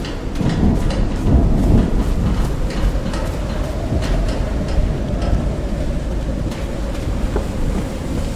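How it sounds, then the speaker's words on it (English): Thunder rolls during a storm, a loud, sustained low rumble that swells early and keeps grumbling, with rain-like crackle over it and no voices. "I used to cover myself with the sheets to not listen to the noise of thunder"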